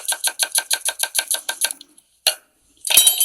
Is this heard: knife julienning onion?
yes